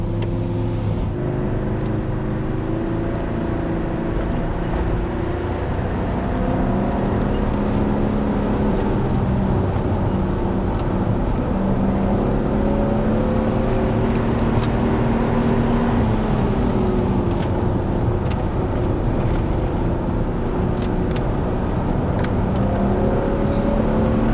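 A serviced Porsche 928S engine pulls hard while driving, its deep V8 note rising and falling through the gears as the car accelerates, heard steadily from inside the cabin.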